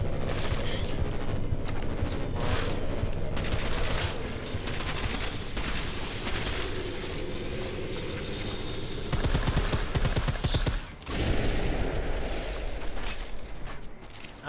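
Dense, sustained gunfire from a weapon in the video game Deus Ex: Mankind Divided, a loud, continuous barrage of rapid shots with a brief break near the end before the firing resumes.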